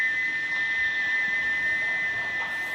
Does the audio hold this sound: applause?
no